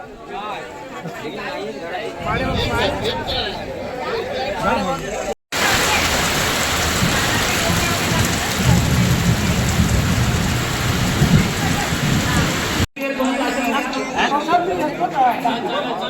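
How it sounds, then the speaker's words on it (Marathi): Heavy rain pours with rumbling thunder at an outdoor wedding in Konkan, a loud steady downpour filling the middle of the clip, with people chattering and talking before and after it. "पाऊस आता येतोय बघा आलो पाऊस"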